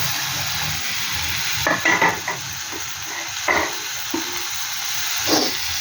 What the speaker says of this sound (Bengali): জিরেটা দিয়ে আমি পেঁয়াজগুলোটাও দিয়ে দেবো